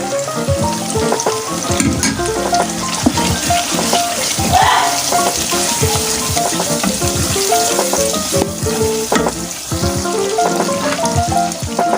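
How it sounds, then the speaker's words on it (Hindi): Ground spices fry in softened tomatoes for a kidney bean curry, sizzling and crackling steadily up close with repeated scraping stirs of a spoon in the pan. "और अब मैं इसे अच्छी तरह भून लूँगी।"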